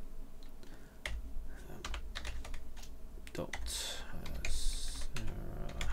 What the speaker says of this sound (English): I can actually type it in here.